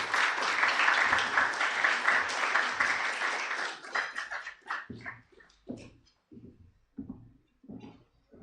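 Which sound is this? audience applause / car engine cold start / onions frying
audience applause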